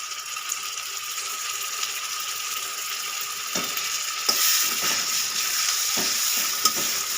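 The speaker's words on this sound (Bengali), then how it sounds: "পেঁয়াজটা আমার লাল লাল করে ভাজা হয়ে গেছে এবার আমি দিয়ে দেব এক চামচ আদা রসুন পেস্ট" Browned onions sizzling in a pan as ginger garlic paste goes in, a steady close-up frying hiss throughout with a few sharp spoon scrapes and clicks of stirring, no voices.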